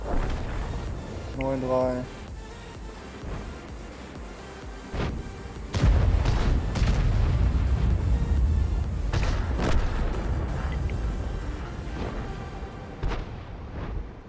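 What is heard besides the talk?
artillery fire in World of Tanks video game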